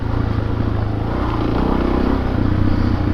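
A Suzuki DRZ400S motorcycle engine revs hard while riding, a loud, continuous buzzing drone with rising and falling pitch and no voices.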